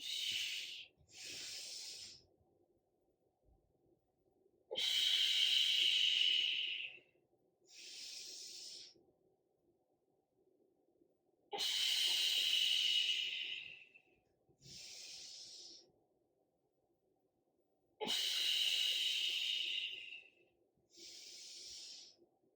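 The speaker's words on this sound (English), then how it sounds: "big inhale, big exhale" Deep breathing during a home back and chest workout, with three clear cycles of a long, loud hissing inhale followed by a shorter exhale, heard close with quiet gaps between.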